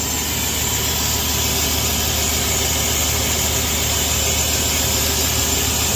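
An Omtech laser cutter engraves letters at speed, giving a steady, unbroken mechanical hum and whir that stays constant and moderately loud throughout.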